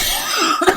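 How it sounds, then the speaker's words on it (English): A single short, sharp cough from a person, close and isolated, lasting under a second. "that's my movie critic cough"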